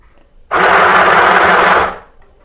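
A mini sewing machine runs and stitches in one steady, loud mechanical whir lasting over a second, starting abruptly and winding down, with quiet room sound before and after.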